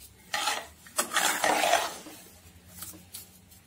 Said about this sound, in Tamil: இப்போ இதை ரெண்டுத்தையும் ஒன்றா போட்டு நல்லா கலரணும்